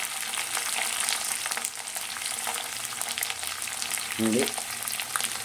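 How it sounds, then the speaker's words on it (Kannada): Chopped cauliflower and onion frying in a pan: a loud, continuous close hiss of oil sizzling with a brief stir partway through, a single short spoken word over it. "ಇದು ಸ್ವಲ್ಪ ಕಾಲಿಫ್ಲವರ್ನ ಹೆಚ್ಚಿಕೊಂಡು ಹಾಕ್ಕೊತಾ ಇದ್ದೀನಿ"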